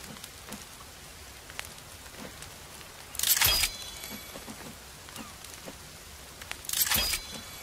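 Steady rain patters in The Forest survival game, a soft continuous hiss with faint droplet ticks, broken by two bright crackling bursts partway through.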